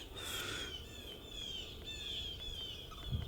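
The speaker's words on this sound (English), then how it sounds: "Listen to the birds." Birds chirp and call repeatedly from trees around an outdoor porch, a steady series of thin, high phrases at moderate distance over soft background ambience, with a faint low bump near the end.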